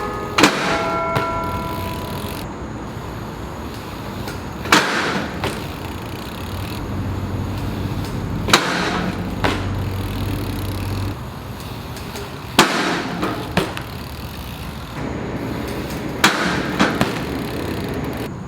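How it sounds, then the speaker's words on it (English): BMX bike grinding along a waxed skatepark ledge through a series of basic grinds, each run marked by a loud clack of pegs landing followed by a rough scraping slide, repeated several times. "I think I'm gonna do all the basic grinds back to back on the ledge"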